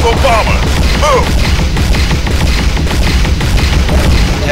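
Maxim cannons on bombers fire in the space combat game Blue Planet: rapid, dense bursts of loud cannon fire with booming impacts, over whistling electronic tones throughout.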